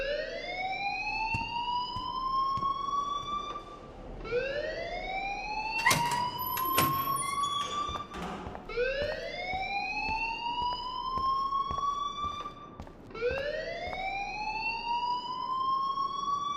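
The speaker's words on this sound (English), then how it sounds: "please turn off that alarm since that's your job" A school alarm in the video game Life Is Strange wails loudly in repeated rising whoops, four sweeping cycles about four seconds apart, with no voices over it.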